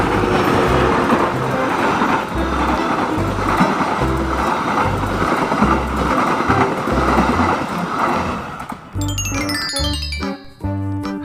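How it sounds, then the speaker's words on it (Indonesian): A CC203 diesel locomotive passes a railway crossing with rhythmic clickety-clack of wheels over rail joints and a loud rumbling roar, then the crossing bell dings in a quick repeating pattern as the train clears. "Ada kereta, wah ternyata kereta api CC203 man"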